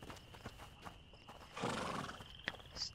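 A horse whinnies briefly amid soft hoof clops and background noise in the video game A Plague Tale: Innocence, fairly faint and slightly distant.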